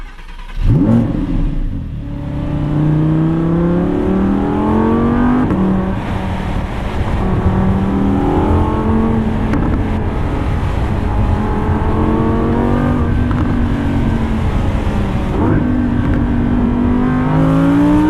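A 2019 Audi R8 Performance with a naturally aspirated 5.2-litre V10 revs loudly and close, its engine note climbing repeatedly through the gears in rising sweeps with brief dips between shifts, no talk over it.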